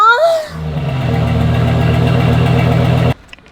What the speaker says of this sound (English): I gotta give a cold start for you guys and see what this exhaust sounds like